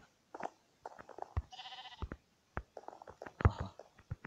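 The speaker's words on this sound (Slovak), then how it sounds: "Zatiaľ tu mám iba ovce." Minecraft sheep bleating in the game, a clear wavering bleat in the middle surrounded by short clicks and thuds of gameplay, fairly close and with no talk over it.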